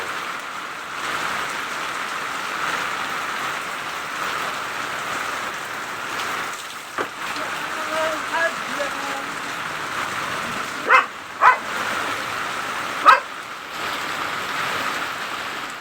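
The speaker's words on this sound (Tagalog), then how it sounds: "lalo lumakas ang ulan" Steady, dense rain pours down continuously, with a few sharp thumps and a distant dog barking briefly amid the downpour.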